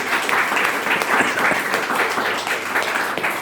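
Audience applause at a seminar, a loud, fairly close burst of many hands clapping continuously with slight swells and no speech over it.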